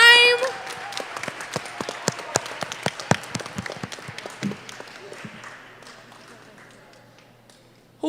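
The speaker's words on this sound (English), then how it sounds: "So we have to give them a round of applause" A school audience at the Aurelia Kelly Primary School gives the fundraising committee a burst of applause, with dense clapping that thins into scattered claps and fades to quiet, then a voice starts up right at the end.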